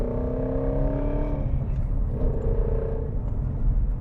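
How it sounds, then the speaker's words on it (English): Engine of a 2017 Ford Mustang GT350 in sport mode dropping to third gear for a turn, a steady loud low rumble with a rising-and-falling harmonic pitch as revs change, continuous with no talk. "we downshift to third"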